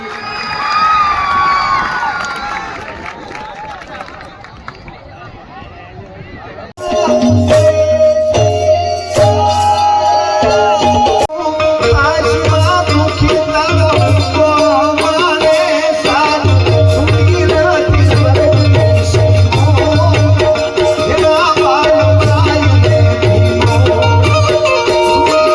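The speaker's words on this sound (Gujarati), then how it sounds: "આપણે એક વખત એમને જોરદાર તાળીઓથી વધાવીએ" An audience at a Ram Mandir Pratishtha Mahotsav gathering cheers and applauds to welcome a performer: a lively crowd roar for several seconds, then loud rhythmic music takes over.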